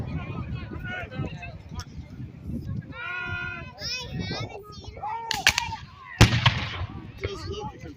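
Civil War reenactment battle on an open field at Green Bluff, Washington, with .50-caliber-plus muskets and artillery: one sharp close report cracks out amid a noisy, crowded outdoor scene of voices, bleating animals and chatter.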